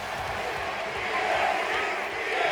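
A steady roar of crowd cheering fills a WWE 2K24 wrestling arena in Universe Mode, continuous and broad for a couple of seconds, swelling slightly in the middle.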